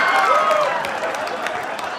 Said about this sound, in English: I can't believe you clapped about that